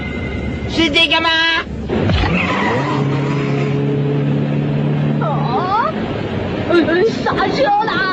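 Cartoon car braking and skidding, a loud tyre screech with engine noise, mixed with excited voices shouting over it.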